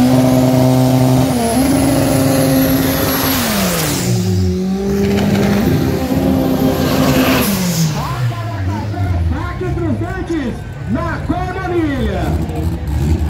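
Race cars, including Volkswagen Beetles on Argentine Black 25x10 tyres, roar past on a track with loud revving and pitch shifts as they pass, over continuous commentary.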